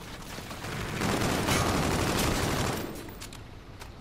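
Dense, loud bursts of rapid gunfire from a video game shooter, continuous for several seconds before thinning out near the end.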